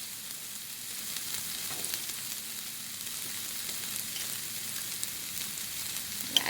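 Green curry paste sizzles and spits in a hot pan for Thai green curry, a steady crackling fry with a few sharper pops near the end, fairly quiet and with no talking.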